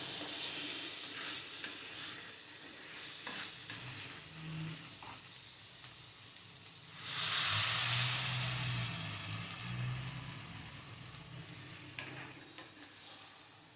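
Curry frying in a pan with chilli powder: a continuous close sizzle with stirring scrapes, swelling into a loud hissing burst midway before settling back to steady frying.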